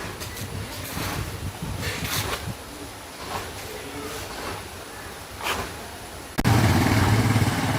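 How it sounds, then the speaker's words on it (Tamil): Motorcycles pass on a forest road between Athirapally and Valparai, heard from inside a moving private bus. Engine noise rises and falls as riders go by, and louder bus rumble kicks in near the end. "நிறைய பைக்கர்ஸ் போயிட்டு இருக்காங்க."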